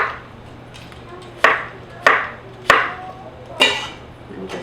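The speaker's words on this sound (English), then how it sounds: "So I'm just going to chop down the middle and do a few big chops in there." A kitchen knife chops through onions on a cutting board in four sharp, separate strokes about half a second apart, close and clear, with no talk over them.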